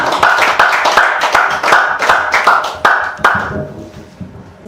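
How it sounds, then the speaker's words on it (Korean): An audience at a Thursday guest lecture welcomes the speaker with close, loud clapping that starts as strong, fairly even claps, then thins out and fades after a few seconds, with faint room murmur beneath. "박수로 환영해주세요."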